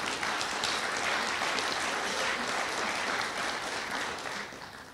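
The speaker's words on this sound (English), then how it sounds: "I think they all deserve a round of applause from you all." An audience at a 2013 ocean-industry forum address claps in a sustained, dense round of applause, steady and loud throughout before tapering slightly at the end, with no talking over it.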